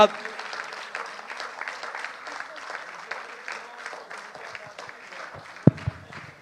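A church congregation applauding during a Sunday service, sustained clapping from a crowd throughout, with a couple of sharp louder knocks near the end.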